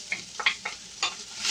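Chopped onion hitting hot oil in a pan for a sardine pescadilla filling, giving short crackling bursts of sizzle with a brief stir, close and moderately loud, with no talking.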